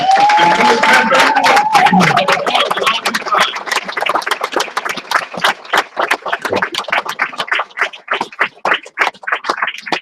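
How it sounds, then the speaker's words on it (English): Meeting audience applauding at length, a dense wash of many hands clapping that thins toward scattered, separate claps near the end, heard alone without talk. "Y'all stand up and give it applause too."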